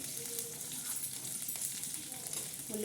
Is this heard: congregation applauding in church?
no